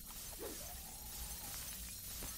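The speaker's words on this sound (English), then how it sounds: "Wow, so much shattering stuff." Shattering burst from a spell cast in the fantasy game DDO, a brief crackling break sitting low under a dense, steady wash of game ambience.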